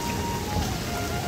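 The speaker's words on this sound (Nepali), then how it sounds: "सिमसिम पानी परिरहे पनि यहाँ देख्न सक्नुहुँदैछ" Light rain falls steadily outdoors by a flooded river with a running water fountain and traffic nearby, making a soft continuous hiss with no clear individual drops, even in level throughout.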